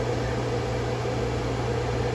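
A 600 watt Commercial Chef microwave runs on solar battery power, giving a steady, close, even hum with a low mechanical drone and airy fan noise throughout.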